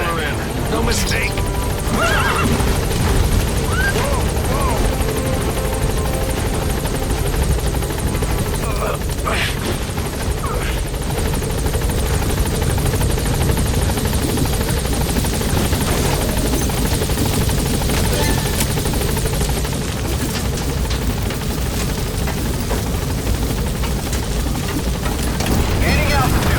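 In the Metal Gear Solid 5 video game, a helicopter gains altitude and departs, its loud rotor roar steady throughout while game dialogue and horse whinnies sound over it.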